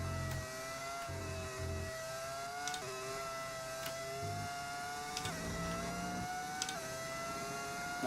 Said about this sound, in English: Classic engine sound is pretty good, isn't it?